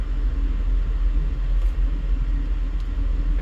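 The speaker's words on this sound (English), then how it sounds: "And now we've got traffic on the other side." Traffic rolls past on a Las Vegas street as a steady, close, low rumble of car engines and tyres, loud and continuous with no talking.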